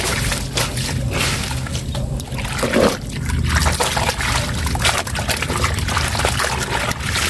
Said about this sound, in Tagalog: Banlaw na po, banlaw.